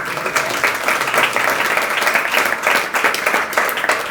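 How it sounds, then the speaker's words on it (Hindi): An audience at a religious discourse claps steadily and fairly loudly for a few seconds, a dense even patter of many hands with no voice over it. "ताली क्यों बजाई आपने?"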